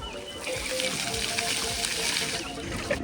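A fountain shooting water upward at a cultural park in Bali makes a continuous close rushing splash, with voices faintly mixed in.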